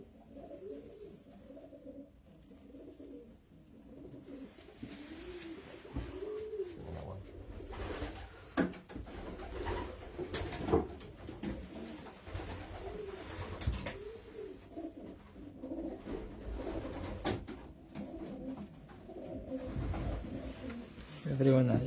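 Pigeons coo in a racing-pigeon loft, soft low rolling calls overlapping through the clip, with handling noises and a few louder knocks.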